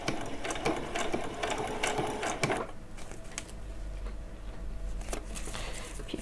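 A sewing machine stitches a Halloween dress, its rapid needle clatter loud and close for a few seconds before stopping and giving way to quieter handling of the fabric.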